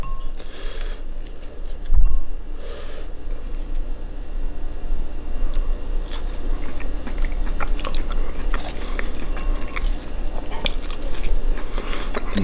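Sweet potato fries being chewed up close, with repeated soft crunching bites after an initial sharp crunch, steady and moderately loud against faint background noise, without speech.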